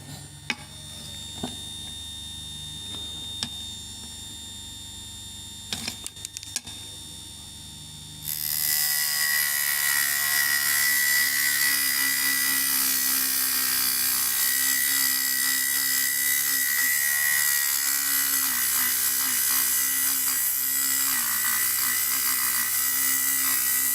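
A few quiet mechanical clicks and brief buzzes, then a mini table saw starts up with a loud, sustained high-pitched whine and grinding as it cuts dry through glass.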